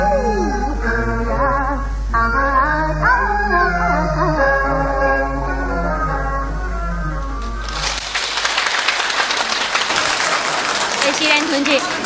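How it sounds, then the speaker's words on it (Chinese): An audience at a 1979 Yue opera performance breaks into warm, sustained applause just after a sung passage ends. The clapping is dense and lively and fills the rest of the clip. "你看大家掌声那么热烈"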